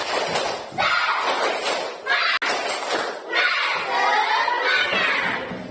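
A classroom of fifth graders repeats a spirited clap-and-chant routine, their voices shouting together in loud bursts over crisp, patterned clapping, with a brief pause midway.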